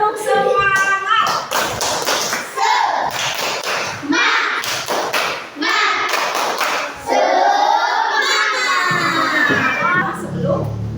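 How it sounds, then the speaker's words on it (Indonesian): A class of fourth-grade children performs a rhythmic spirit clap chant, bursts of sharp, patterned clapping alternating with loud shouted unison chanting, close and energetic, with a teacher's voice leading between the rounds. "Kita beri tepuk semangat buat kita semua."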